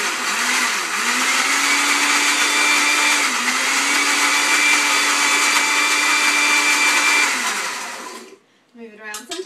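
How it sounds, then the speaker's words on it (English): A blender whirring through frozen bananas, cinnamon, orange juice and coconut milk for raw banana ice cream, a loud steady motor whine with pitch dips as the load shifts, then cutting off near the end. "And then we blend it up."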